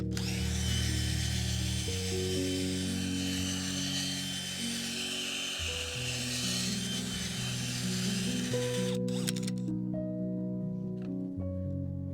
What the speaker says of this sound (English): you don't want this auger to twist your arm